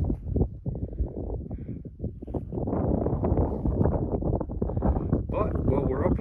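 Gusty wind buffets the microphone on a fogged-in mountain top at Max Patch, a loud rushing roar that swells and steadies, with a person speaking through it.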